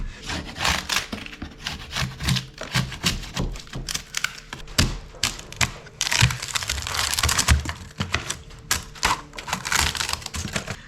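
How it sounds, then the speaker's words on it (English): Old rotten plywood bulkhead being pried and broken out inside a wooden boat's cabin, with dense irregular cracks, snaps and scraping knocks, close and busy, without speech. "it's time to make some headway on removing the old bulkhead"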